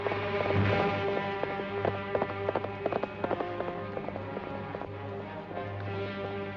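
Horse hooves clip-clop in a steady, uneven rhythm at moderate distance, the horse having a loose shoe, over a constant low hum and faint background noise.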